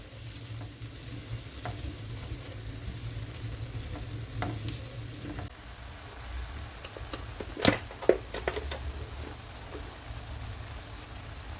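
Chicken and mushroom frying in a pan, a steady close sizzle with scraping stirs and a couple of sharper clinks midway, no voices.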